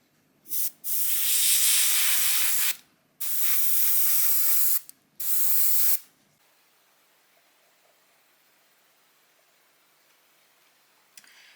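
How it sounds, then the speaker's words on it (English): Black spray paint hisses from an aerosol can onto a small light part for a 1/10 scale RC car model, in three close bursts of about two seconds each, followed by quiet with a faint click. "now I have to paint it with one layer of black coat and 2 layers of high gloss clear coat"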